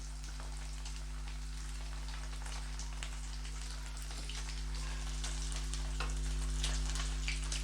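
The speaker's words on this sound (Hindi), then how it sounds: "इनको एक एक करके डाल देंगे और फ्राई करेंगे अच्छे से गोल्डन ब्राउन होने से।" Potato pieces fry in hot oil over a medium flame, giving a steady close sizzle with fine crackling against a low electrical hum.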